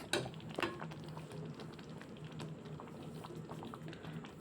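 Vegetable gravy Manchurian simmering in a pan, a steady low bubbling and popping with a couple of sharper splutters near the start, close and fairly quiet with no talking.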